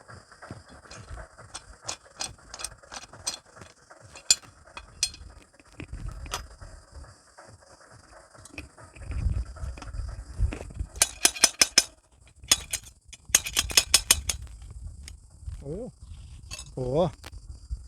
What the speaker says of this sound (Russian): А теперь мы будем его открывать.